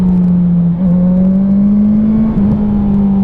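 A motorcycle engine, freshly fitted with a new spark plug and filters, drones loud and close at a fairly steady pitch with slight rises in revs and no voices.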